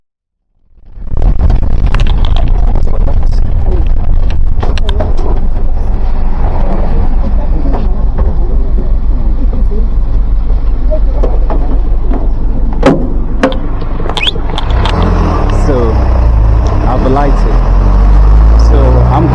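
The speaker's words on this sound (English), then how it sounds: "I use this bus here, so I want to go to Kenya Mass." A city bus rolls through Nairobi, Kenya, its engine and road rumble a steady low drone throughout, with occasional rattles and knocks, while a person talks over it the whole time.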